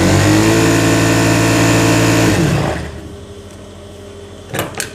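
A sewing machine stitching the slit hem of a kameez runs loud and fast in a steady, even whir, then stops abruptly about halfway through, leaving near-silence and a couple of faint clicks at the end.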